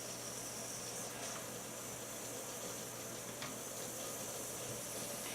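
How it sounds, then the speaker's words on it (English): An Instant Pot vents a faint, steady hiss of steam from its valve while coming up to pressure, with a low electrical hum beneath. "It's making a little bit of hissing noise and there's a little bit of steam coming out of the valve."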